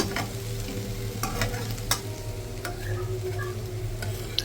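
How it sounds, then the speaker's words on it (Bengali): Parathas fry in a pan in a home kitchen, giving a quiet, steady sizzle with scattered light clicks and ticks from the pan. No voices are heard. "আর এদিকে তো পরোটাগুলো ভেজে নিতেছি"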